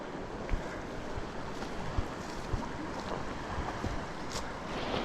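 Steady broadband rush of a glacier-fed waterfall in mountain backcountry, heard from a distance with wind buffeting the microphone and no voices.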